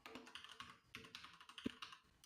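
Quiet, close-up typing of code on a computer keyboard, with quick irregular key clicks and one sharper thump partway through, no voices.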